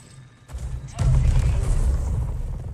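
A grenade explodes in the video game Marathon: a faint click, then a heavy low boom that rolls on with a rumbling tail for nearly two seconds.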